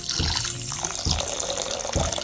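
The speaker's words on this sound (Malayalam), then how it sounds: "ഇനി നമുക്ക് ലേശം വെള്ളം ഒഴിച്ചു കൊടുക്കാം" Water pours steadily into a pan of sugar, a continuous splashing with a few louder bursts, close by and with no talking.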